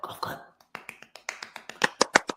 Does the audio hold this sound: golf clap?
yes